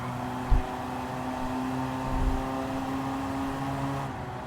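A big Volvo driven around the Nürburgring in Gran Turismo 7 gives a steady engine drone at a constant pitch. Two dull thumps break into it, and no one talks.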